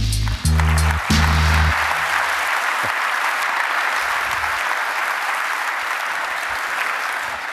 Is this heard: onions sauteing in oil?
no